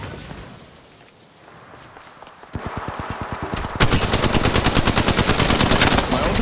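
Automatic weapon fire in the mobile battle royale game Apex Legends Mobile, rapid loud bursts that start after a quiet stretch and build into a dense, sustained stream of shots, heard close and without talk.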